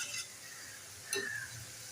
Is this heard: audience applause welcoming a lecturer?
no